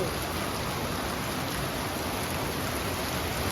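Rain falls steadily at an outdoor work setup, a dense, even hiss of drops on surfaces that continues unbroken and fairly close throughout.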